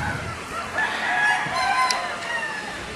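A gamecock being readied for a cockfighting derby crows with a drawn-out, wavering call over steady outdoor background noise, fairly close and moderately loud.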